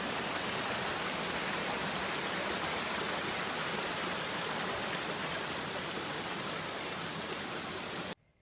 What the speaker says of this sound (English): Just a few minutes walk from the Medina's entrance, you can see the Ras El Mar waterfall.